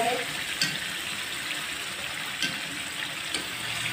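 Mutton and masala frying in oil for dhaba-style matar gosht, a continuous hissing, bubbling sizzle with occasional soft stirring knocks, close and steady.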